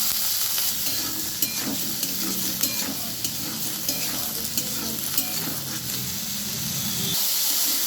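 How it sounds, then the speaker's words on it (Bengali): Potatoes and green peas fry in a pan with green chillies and bay leaves, giving a steady close sizzle broken by repeated scraping stirs, with no talking. "আলু মটরশুঁটিটা আমি খুব সুন্দর করে ভেজে নিলাম"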